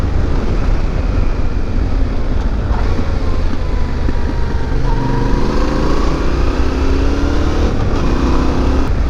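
A 2021 Yamaha Tenere 700 engine drones while riding, its pitch climbing through the gears with several short shifts around 5,000 RPM, under steady wind rush.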